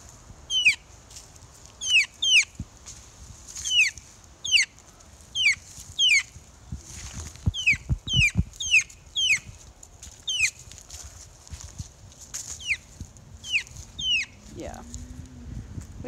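A chicken, newly brought home, clucks near the mic in repeated short, sharp calls spaced evenly through the clip over a low background hum.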